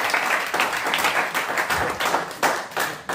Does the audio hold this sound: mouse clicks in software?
no